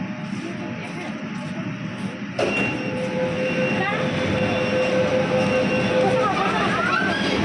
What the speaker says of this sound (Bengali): দেখো ট্রেন চলে এসেছে আমরা এবারে উঠবো